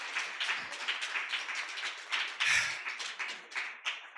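An audience at a book launch applauds three speakers with a moderately loud, steady patter of clapping hands from a modest crowd, close and continuous for several seconds without talking.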